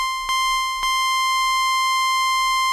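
A high note plays on a wavetable synthesizer during a sawtooth sweep, giving a sustained bright tone with stacked harmonics, two short clicks near the start, and then a steady ring to the end.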